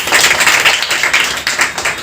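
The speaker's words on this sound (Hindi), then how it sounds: "चलो इनके लिए एक बार जोरदार तालियां हो जाए" An audience at a network marketing business meeting breaks into loud, brisk applause, a dense burst of clapping that continues steadily for a couple of seconds.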